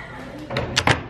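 A house front door is opened close by: a short run of clunks, a latch click and a rattling thump in quick succession over a dull room background.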